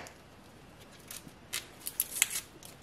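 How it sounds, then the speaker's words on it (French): Fingers peel the papery skin from an onion and a garlic clove in a kitchen: faint, close, dry crackles and crinkles in scattered bursts that grow busier toward the end, against a quiet background. "Je vais commencer par éplucher donc mon oignon ainsi que la gousse d'ail."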